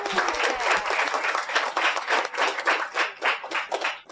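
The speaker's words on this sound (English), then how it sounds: "can we get a big round of applause for everyone who pitched today?" An audience at a startup pitch event in Toronto claps warmly for everyone who pitched, close and lively hand claps that rise quickly then fade unevenly toward the end.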